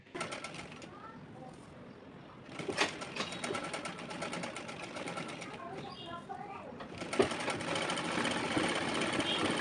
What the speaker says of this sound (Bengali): ফিউজিংয়ের গা ঘেঁষে আমি সেলাইটা দিয়ে নেব